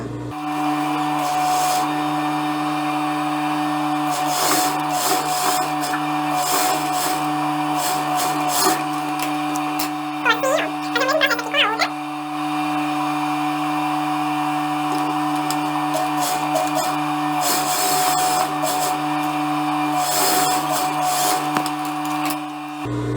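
A sewing machine runs in steady bursts while stitching a dart on an eyelet blouse, with a constant motor whir and brief pauses and handling noises between runs.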